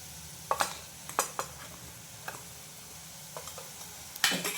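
Garlic and cumin paste frying in a pan for a vegetable dish, a soft steady sizzle under a few sharp, close scrapes and taps of a spoon stirring against the pan.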